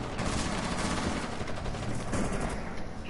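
Rapid video game gunfire rattles away loud and near, a dense fusillade of overlapping shots with no pause throughout.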